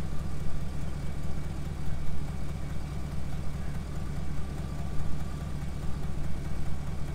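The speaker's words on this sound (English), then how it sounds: "I had a feeling that tractor wasn't gonna want to start, but start, baby, start!" Farm tractor engine running on a cold day after a jump-start from a pickup, a steady low idling rumble with even pulsing throughout, close and moderately loud with no talk.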